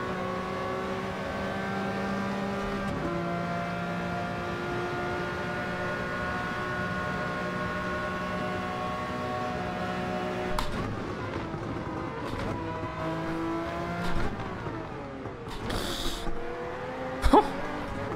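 Race car engines accelerate and roar in Gran Turismo 7, a sustained high-pitched engine drone with rising and falling revs as cars launch out of a turn, then a few sharp knocks and bursts near the end.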